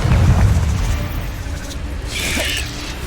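A Confringo spell from Hogwarts Legacy bursts with a deep, loud boom that rumbles and fades, followed by a brighter crackling hiss.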